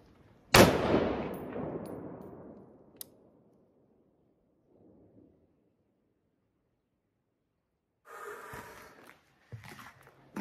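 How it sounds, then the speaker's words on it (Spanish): A single loud gunshot cracks close by inside an abandoned house in a canyon and echoes away, followed by quiet, then faint scuffling and handling noises. "voy a tirar un balazo"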